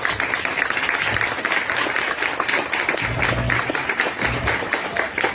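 An audience at a film debate event applauds to receive the next invited speaker, a steady, dense round of clapping with low murmurs underneath.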